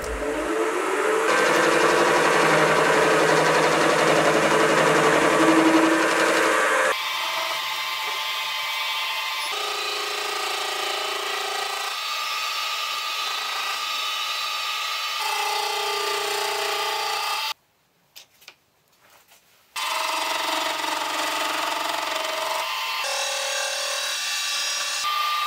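A machine cuts a gear from scratch in a workshop, a steady loud cutting whine that changes pitch in successive passes, broken by a short quiet pause partway through before cutting resumes.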